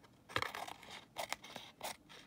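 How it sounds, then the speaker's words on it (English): Scissors snipping through craft tape while making a handmade Christmas card, several short crisp cuts close by with brief pauses between them, quiet and without talk. "That's because I cut the tape with it."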